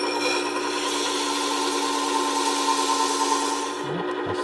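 A hand plane is rubbed back and forth on abrasive grit while being polished, a steady close rasping scrape with a constant tonal hum beneath, easing off near the end.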